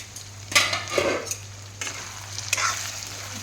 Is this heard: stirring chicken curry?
yes